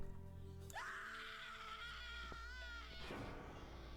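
A horror video game character's scream in The Cat Lady, a sharp rising shriek that holds for about two seconds over a low droning game soundtrack, then breaks off into a short ragged gasp.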